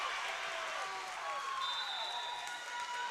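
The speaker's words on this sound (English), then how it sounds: "Take a listen to this crowd." Crowd in a volleyball arena at the Arkansas Class 4A state match between Wynne and Morrilton roars and claps steadily at close range, with whistles and shouts in the din and voices mixed through it.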